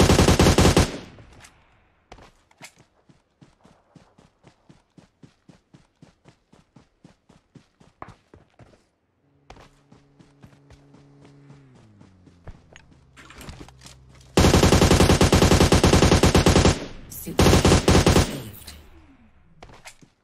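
Gunfire in a shooter video game played solo against a squad: a long steady string of single shots, a pause, then loud dense automatic bursts near the end, with no talk.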